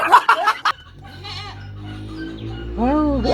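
A goat bleats loudly near the end, a wavering nasal cry, after a short burst of voices and laughter at the start and a lower animal murmur in between.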